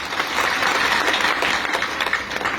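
Audience clapping at a Hindi motivational talk, a steady wash of many hands applauding throughout, fairly loud and continuous, with no speech on top.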